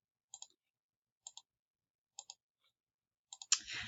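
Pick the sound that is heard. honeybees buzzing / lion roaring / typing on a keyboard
typing on a keyboard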